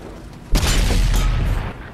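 A stock 120mm gun on an M103 heavy tank fires in World of Tanks on console: one sudden loud boom, then a rolling rumble that fades over about a second.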